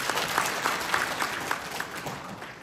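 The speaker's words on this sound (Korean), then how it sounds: "여러분 응원의 박수 한번 부탁드리겠습니다" An audience at a public town-hall question-and-answer session in Jeju gives a dense, steady round of applause for a youth drone soccer team. Many hands clap continuously and fairly loudly throughout, with no voices over it.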